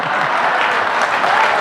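Dense, continuous applause from an audience at a Hindi comedy poetry gathering, a steady wash of many clapping hands throughout.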